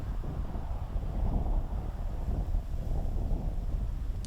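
A stiff headwind blowing across a disc golf course buffets the microphone with a continuous low rumbling roar, steady and fairly loud throughout, with no voices.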